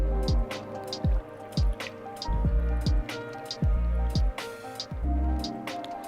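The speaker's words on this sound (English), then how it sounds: "now I can pour liquid ethanol straight from the bottle" Liquid ethanol poured straight from a bottle into a burner's fuel tank, giving a close, steady series of hollow glugs and gulps with small drips between them, and no voices.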